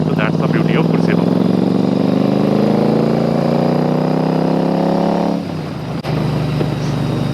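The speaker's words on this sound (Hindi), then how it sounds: "आप अगर ज़्यादा ध्यान ना दो तो आपको पता भी नहीं चलेगा कि एग्जॉस्ट की आवाज़ आ रही है।" A Royal Enfield Super Meteor 650 fitted with a Gursewak aftermarket exhaust revs up with a rising, throaty drone that drops back to idle, heard close and fairly loud.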